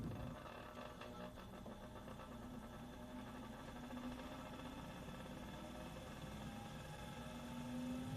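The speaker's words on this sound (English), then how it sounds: "When the test tubes inside aren't evenly distributed, the centrifuge is unbalanced." Unbalanced laboratory centrifuge with unevenly loaded test tubes, giving a steady droning hum and continuous vibration at an even level throughout, with no voices.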